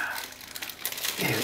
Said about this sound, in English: My hands are terrible when it comes to opening these sort of plastic bags.